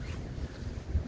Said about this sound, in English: It is mad windy out here.